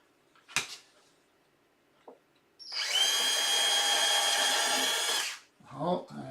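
A small spring-loaded power drill whirs steadily into wood for about three seconds after a couple of sharp knocks, then cuts off as faint speech follows.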